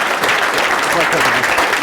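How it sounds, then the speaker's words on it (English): Audience applause at the close of a lecture, a steady dense wash of clapping throughout, loud and sustained, with a voice faintly under it. "let's give him one final round of applause"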